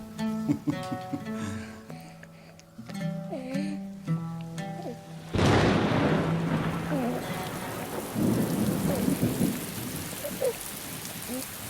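Music fades as a sudden thunderclap breaks, then a heavy, steady thunderstorm downpour takes over with a few more rumbles rolling in the distance.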